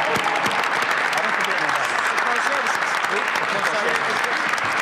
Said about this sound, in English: I want to give a big round of applause to this whole unit of folks